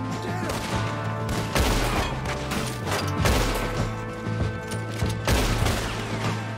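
Gunfire in Red Dead Redemption 2 during a shootout with Pinkertons near a log cabin: loud, repeated gunshots in uneven bursts over a steady low droning game soundtrack, close and dominant throughout.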